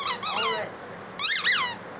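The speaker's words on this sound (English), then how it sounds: "He won't because he loves his squeaker." A dog's squeaky toy gives two sharp, high, wavering squeaks, close and loud, separated by a brief quiet gap.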